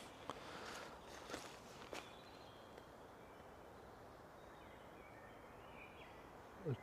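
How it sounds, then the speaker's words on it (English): A single footstep crunches on dry leaves at night in the woods, faint and distant against a quiet background with a few soft rustles earlier, the step landing as a brief burst near the end. "a footstep on the leaves"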